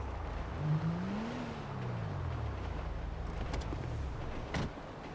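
A car driving in GTA V on a FiveM server: a steady engine hum that rises in pitch as it accelerates and then eases back down, heard close and alone with a couple of brief clicks near the end.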